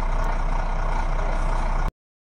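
A heavy truck engine rumbling steadily, loud and close, cut off abruptly after about two seconds, with no voices over it.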